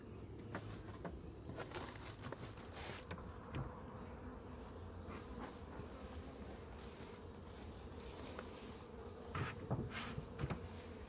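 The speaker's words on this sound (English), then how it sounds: "This right here is actually the very, very large swarm that I caught the day I caught the second and third swarms." A large captured swarm of honeybees gives a continuous, dense buzzing drone with individual bees passing close by now and then.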